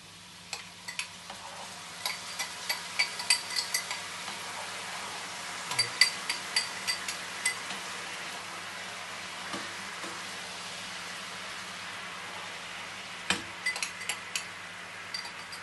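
A pan sauce made with veal stock, raisins and apples simmers with a soft, steady sizzle while a utensil stirs it, tapping and clinking against the pan in quick bursts that come close together and then stop.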